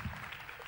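A television studio audience on the Popstar talent show applauds a contestant: a brief, fairly quiet burst of steady clapping.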